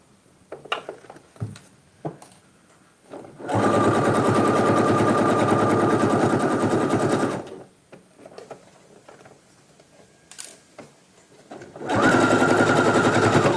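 A sewing machine topstitching fabric, running in two sustained bursts of rapid, steady mechanical whirring, with quiet handling clicks and pauses between them.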